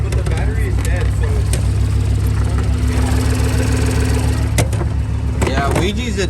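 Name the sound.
Mercedes CLS63 AMG engine idling roughly, possible misfire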